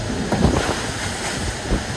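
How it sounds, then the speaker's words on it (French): Rough open sea with more than 50 knots of wind aboard a Vendée Globe racing sailboat, a loud continuous roar of wind and crashing waves filling the whole clip. "L'état de la mer, les amis! Regardez, on a plus de 50 nœuds de vent!"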